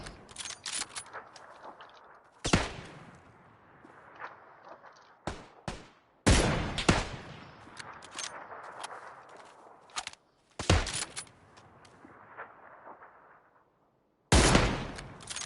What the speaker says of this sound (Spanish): le pegué ya 3 tiros con el M24